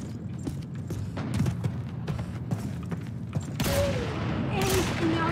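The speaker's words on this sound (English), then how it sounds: "It was several shots." Gunfire in the World War II shooter game Call of Duty 2 comes as a volley of sharp shots, some rapid and overlapping, followed by louder, noisier blasts near the end.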